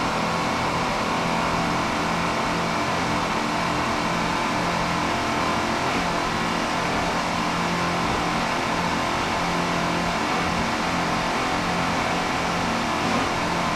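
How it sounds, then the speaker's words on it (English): A racing powerboat at a world championship race runs at full throttle, a dense, steady engine roar that stays loud and unbroken throughout with no talk. "Going down on the throttle"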